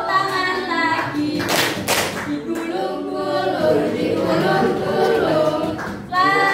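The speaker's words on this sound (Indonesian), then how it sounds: "Buka tutup, bertepuk tangan." Hands clap along to a children's song, with a few sharp bursts standing out over continuous singing and talking voices.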